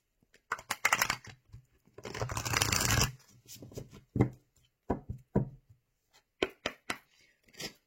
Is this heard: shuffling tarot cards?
yes